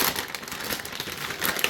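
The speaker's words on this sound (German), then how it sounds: "Dann haben wir hier eine Tüte. Oh, die kann man sogar wieder verschließen." A resealable plastic bag crinkles and rustles close by while a 3D printer is unboxed, giving a steady, dense crackling that swells near the end, with no talk.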